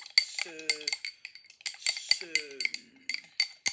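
A spoon clinks and scrapes against a cup while matcha powder is stirred into almond milk, giving quick bright repeated taps with short ringing tones, close by.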